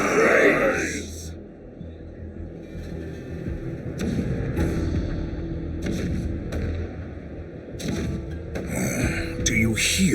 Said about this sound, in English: The rumble of the cannons.